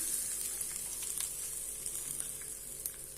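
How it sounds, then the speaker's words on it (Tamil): A tempering of mustard seeds, urad dal and curry leaves added to manathakkali keerai chutney gives a soft, steady hiss of sizzling oil with faint crackles, quiet and without talk. "இப்போ இதுக்கு நான் கடுகு, உளுத்தம்பருப்பு, கருவேப்பிலை போட்டு தாளிச்சு வச்சுருக்கேன், அதை சேர்த்துட்றேன்."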